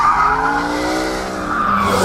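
A Mercedes SLS AMG Black Series squeals its tyres hard on a race track, a loud continuous screech with wavering pitch that runs throughout, close and alone with no talk over it.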